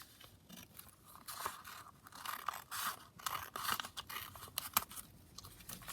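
Scissors cutting paper booklet pages, a close series of quiet crisp snips and rasping slices, irregular and unhurried, with no talk.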